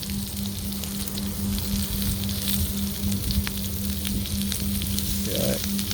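Slices of sucuk sausage fry in a pan with a steady, close sizzle and crackle that runs through the whole stretch, with occasional louder pops and spits and no voices.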